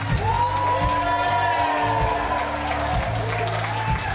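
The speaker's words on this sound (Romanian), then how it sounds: "aici, cred că aplauze merită băiatul ăsta de aici" A Montreal show audience applauds and cheers, crowd noise running under a steady low rhythmic pulse, likely music, with the clapping fading in the middle and then resuming.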